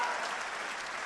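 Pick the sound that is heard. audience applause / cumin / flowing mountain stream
audience applause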